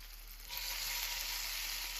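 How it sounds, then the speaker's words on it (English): Sautéed vegetables frying in sausage fat in a skillet give off a steady, close sizzle that swells a little after the first half-second and holds evenly, with no voices. "I'll pull some of the sauteed veggies out and finish cooking them in the sausage fat"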